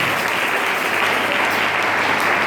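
A large audience at a French church year-end gathering cheers and applauds in a dense, steady wash of clapping, held at full level throughout with no voice standing out.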